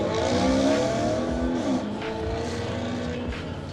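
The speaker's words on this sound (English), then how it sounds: "And the Mustang leaving." A 5-litre V8 Mustang pulls away at a car meet, its engine note loud at first and then fading steadily into the distance, with no talk over it.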